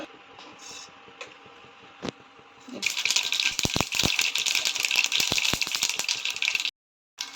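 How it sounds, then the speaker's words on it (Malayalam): Mustard seeds popping in hot coconut oil, starting as scattered faint pops and then building into a loud, continuous crackling rattle with sharp snaps, ending abruptly. "കടുക് പൊട്ടുമ്പോൾ"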